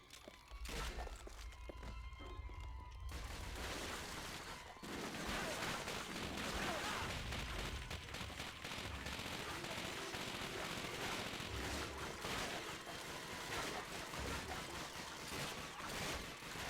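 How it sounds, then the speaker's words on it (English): Sustained Tommy gun fire in the World War II shooter Call of Duty: Finest Hour, a dense, continuous rattle of automatic bursts after a brief quieter start, loud and close throughout. "Trying to hit long shots with the freaking Tommy gun."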